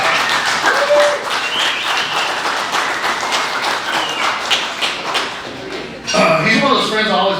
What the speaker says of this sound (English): give a round of applause for Brian Almendas for helping me out